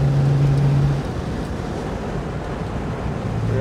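1967 Aston Martin DB6 Volante convertible cruising in sunlight, a continuous rushing roar of wind and road noise with a low engine drone underneath, steady and close throughout.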